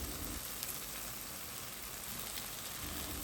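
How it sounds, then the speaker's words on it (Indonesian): Spice paste with bay leaf, lemongrass and lime leaves sautéing in a pan, a steady dense sizzle like light rain that holds level and close throughout, with no talking. "Tumis bumbu sampai benar-benar mateng"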